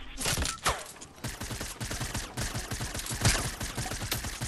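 Enemy weapons in a video game fire in a fast stream of sharp cracks, several guns overlapping into a constant fusillade with a few louder shots standing out.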